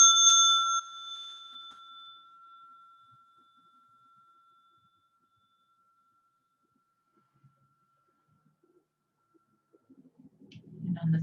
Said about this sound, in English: And on the third sound of the bell